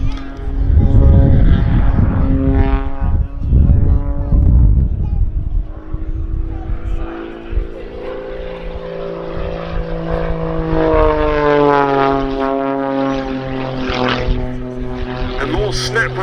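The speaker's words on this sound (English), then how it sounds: "they're showing us this aircraft's penetrating vertical capability" A propeller aircraft flying vertical aerobatics at the Duxford summer air show, its loud engine drone rising and falling in pitch as it climbs and dives, with a commentator talking over it throughout.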